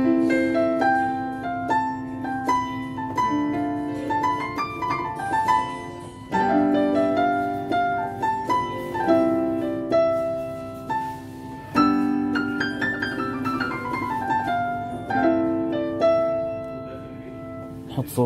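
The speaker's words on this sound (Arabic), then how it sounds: "هذا صوت البيانو" Piano voice on a Yamaha MX61 keyboard synthesizer playing sustained chords with a melodic line on top, steady and full at close range for about eighteen seconds with no talking.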